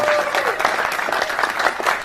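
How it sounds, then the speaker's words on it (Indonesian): Audience applause at a religious lecture gathering, with dense, steady clapping from a crowd throughout, somewhat distant and reverberant, with voices faintly mixed in. "Ini maksudnya apa tepuk tangan begini?"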